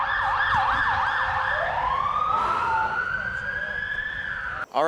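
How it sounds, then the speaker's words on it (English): Ambulance siren passing close by, first a fast warbling wail, then a long rising and falling tone, over steady road rumble, ending with a brief sharp knock; people talk faintly underneath. "Oh, it's an ambulance."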